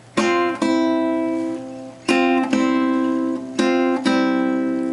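The first two guitar strings strummed together repeatedly in pairs of strikes, playing Away in a Manger, each chord ringing out clearly before the next, up close with no talking.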